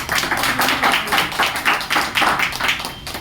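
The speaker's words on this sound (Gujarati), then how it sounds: "તો એકવાર જોરદાર તાળીઓના ગડગડાટથી આપણે" An audience at a food-kit distribution for visually impaired people breaks into loud, sustained applause, dense overlapping claps swelling in waves for a few seconds without talking.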